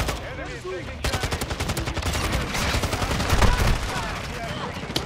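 Rapid automatic gunfire in a fast multiplayer video game, a dense rattling stream of shots that kicks in after a brief quieter moment and continues steadily and loudly with slight swells, no clear talk over it.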